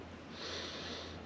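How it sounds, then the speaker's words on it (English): A soft, drawn-out nasal sniff of a stout beer, close and fairly quiet, with a steady low hum in the background. "getting drunk just sniffing it."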